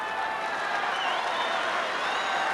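Tennis crowd applauding Tim Henman during a match against Roger Federer: a steady, dense wash of clapping and cheering that fills the whole stretch, with a faint voice under it.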